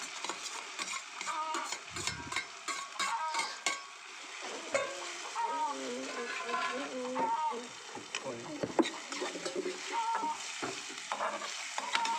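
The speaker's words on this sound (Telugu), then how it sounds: "ఉల్లిపాయ పచ్చిమిరపకాయలు కూడా ఉన్నాయండి, అది కూడా వేసుకోవాలి." Onions and green chillies fry in a pan for chicken curry, a soft steady sizzle under frequent rhythmic stirring and clinks of a spoon against the metal, fairly close and moderately quiet, with no voices.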